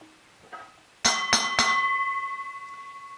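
Three quick bright metallic strikes in succession, like a small bell being hit, leaving a clear ringing tone that slowly fades.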